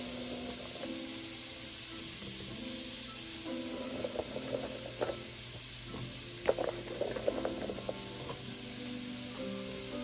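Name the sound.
green beans blanching in boiling water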